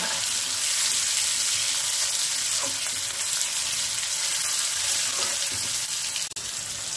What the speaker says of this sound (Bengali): এখানে টমেটো দিয়েও দুটো আবার নাড়াচাড়া করে নিই।